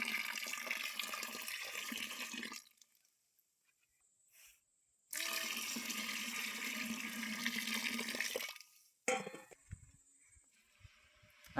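Jaggery water rushes and splashes as it is poured in two long bursts separated by a silent gap, then a shorter trickling splash near the end.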